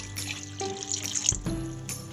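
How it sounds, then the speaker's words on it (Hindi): Half a bowl of water is poured into sambar of brinjal and drumstick in a cooking pot, a short close splash and trickle with a few bright droplet sounds and a soft splash near the end. "आधे कटोरी पानी हम डाल रहे हैं इसमें।"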